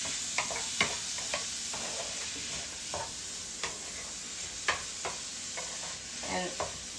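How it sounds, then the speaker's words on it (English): Chopped onions sizzling in a pan on the highest heat, with a steady crackling fry broken by repeated stirring scrapes and clicks, close up and with no talking. "let's put the onions in first. Have that on the highest heat possible."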